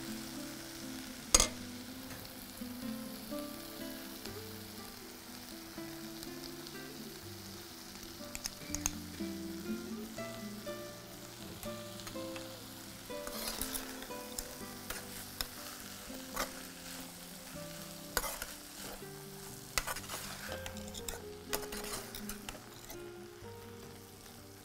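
Grated coconut being stirred into sautéed vegetables in a pan for a Tamil home-style dish, with a steady soft sizzle and scraping stir strokes throughout, plus occasional sharper clicks of the spoon against the pan.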